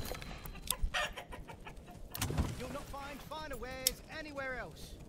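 Chickens cluck and squawk in a row of short bursts in the medieval farming game Manor Lords, with a voice talking over the first half.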